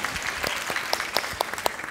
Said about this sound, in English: I'll applaud for my mom.